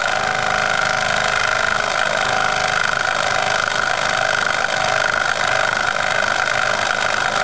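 A Jensen 25 model steam engine runs continuously with a loud, steady hissing whir and mechanical hum, close by and without pause.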